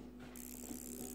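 Wound-up clockwork mechanism of a Dualit timer running, a faint, steady ticking whir close up with no voices.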